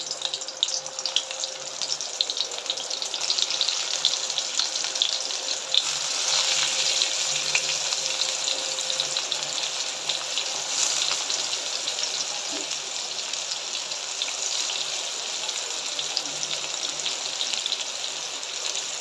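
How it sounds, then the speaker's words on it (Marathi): Stuffed bitter gourd (karela) fries in hot oil in a kadai, giving a steady, even hiss of sizzling that carries on unbroken for the whole stretch with no talking. "आता तेल गरम झाल्यानंतर मी याच्यामध्ये भरलेले कारले टाकून घ्यायचे"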